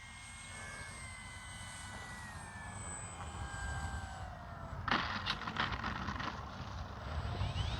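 A Kavan Bristell B-23 RC airplane engine runs at low throttle as a steady, thin drone at moderate distance, with a brief rise in noise partway through and no voices.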